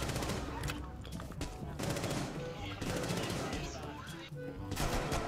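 Rapid automatic gunfire in the Rainbow Six Siege video game, loud repeated bursts of shots filling the whole stretch with brief pauses between volleys.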